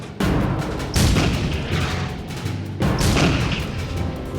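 Tank cannon fire in an Arab–Israeli war battle: two heavy booming blasts about two seconds apart, loud and close, each with a rumbling crash and a long reverberating tail, over continuous low battlefield noise.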